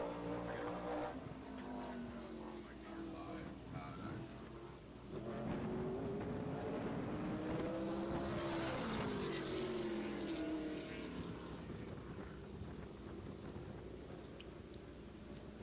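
Modified race car running a qualifying lap at Caraway Speedway, its engine droning steadily, then swelling louder as it passes close by around the middle and fading away again.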